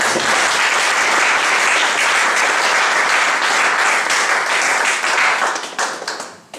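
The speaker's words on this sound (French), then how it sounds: "Est-ce que nous pouvons acclamer le Seigneur?" A church congregation bursts into loud, sustained applause to acclaim the Lord, dense clapping from many hands filling the room, steady for several seconds before tapering off toward the end.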